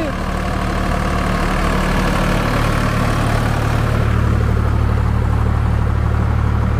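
A Sonalika tractor's diesel engine drives a rotavator in a field, a loud, steady low rumble with a constant drone that shifts slightly partway through, close and uninterrupted.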